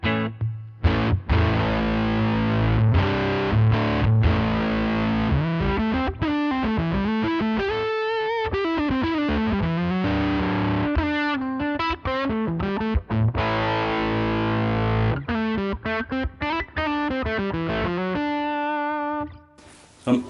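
An electric guitar plays through a Jim Dunlop fuzz pedal into an HX Stomp clean preset, heavy fuzz distortion, thick sustained notes and sliding lines, loud and close, ending abruptly.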